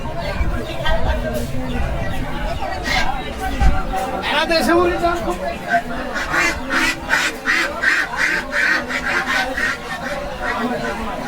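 White ducks quack in a poultry market at Baneshwar bazaar in Rajshahi. The calls are scattered at first, then come as a quick run of rhythmic, fairly close quacks, heard over crowd noise and people talking.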